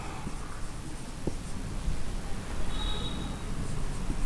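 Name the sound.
chalk or pen writing a proof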